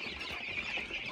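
Young chicks cheep in a soft, continuous chorus of high thin peeps, fairly faint and close, with no one talking.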